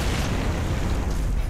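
Frag grenade blast in the video game Gears of War 2: a dense, continuous rumbling boom filling the short clip, loud and close, with no voices over it.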